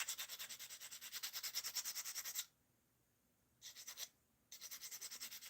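Rapid, rhythmic back-and-forth sanding strokes, close and raspy, in bursts separated by brief pauses; no voices.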